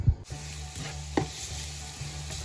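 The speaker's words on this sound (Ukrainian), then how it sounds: "Зараз протушкую цибулю з морквою." Grated onion and carrot sauté in a pan, a soft steady sizzle with a few scraping stirs of a utensil, faint and close.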